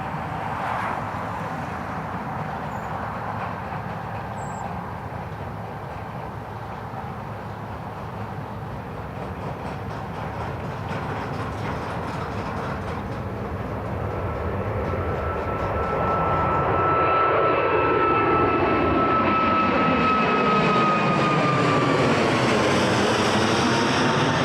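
TUI airliner approaching Newcastle International Airport, a steady jet drone that swells louder toward the end as whining engine tones sweep downward overhead, no voices.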